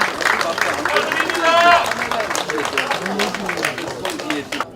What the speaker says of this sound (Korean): 네, 모두 박수 부탁드립니다.